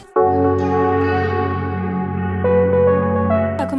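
A single bell rings out as a notification-style sound effect, striking sharply and then ringing with a long, resonant, slowly decaying tone, loud and alone.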